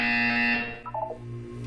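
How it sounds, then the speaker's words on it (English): A buzzer in the Portal 2 video game sounds twice as a steady, loud electronic tone: a long bright buzz, a brief break of short pulses, then a second sustained drone, with no voices present. "When you hear the buzzer, look up at the ceiling."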